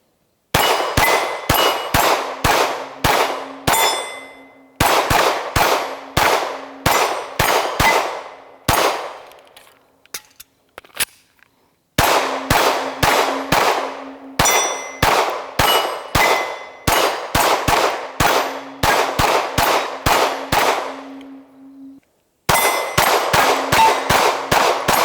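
An FN 509 9mm polymer handgun fires Ventura Munitions ammunition in rapid strings of sharp, loud shots, each ringing like a metallic clang. The bursts are separated by brief pauses for reloading, with no talk.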